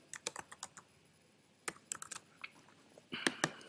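Computer keyboard keys are typed in quiet short bursts of clicks, a few isolated taps and then a quicker cluster, close and soft as numbers are entered into a spreadsheet for a cumulative frequency chart.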